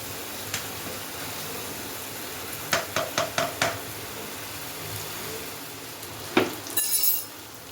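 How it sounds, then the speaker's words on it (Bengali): Chicken masala with a splash of water sizzles softly in a pan for a spicy red chicken kosha, while a spatula scrapes and clinks against the metal in a quick run of strokes, then again after a pause. "অল্প একটু জল দিলাম যাতে মশলাটা পুড়ে না যায়"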